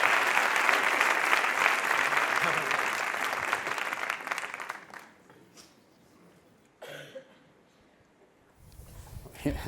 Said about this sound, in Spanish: Vamos a darles un fortísimo aplauso a todos.